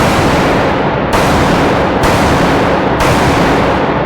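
Three or four loud gunshots from a handgun fired at a target down range, spaced about a second apart, each a sharp broadband crack with a long ringing tail over constant loud background.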